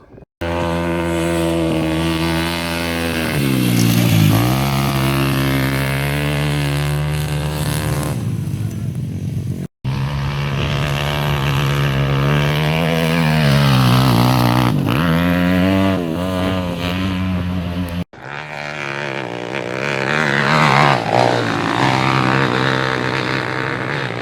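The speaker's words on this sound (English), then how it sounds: "carburetor mount has split, so we're getting a bad air leak, as you can hear" A 125cc shifter kart engine with a split carburetor mount causing an air leak, revving loudly and continuously close by, pitch rising and falling in long sweeps, broken by two brief cut-outs.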